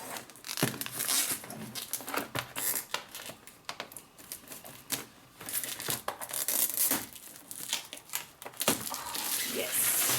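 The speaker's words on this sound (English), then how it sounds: "So let's get this plastic off." Plastic wrap is pulled and torn off a 51 by 61 centimetre diamond painting box, with loud close crinkling and crackling that comes in bursts over about ten seconds.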